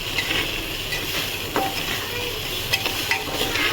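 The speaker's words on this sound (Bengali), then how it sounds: "দিয়ে এটাকে নাড়াচাড়া করবো কিছুক্ষণ।" Peanuts, chili, turmeric powder and salt are stirred in a hot oily pan, giving a steady close sizzle with a few light utensil scrapes and clicks.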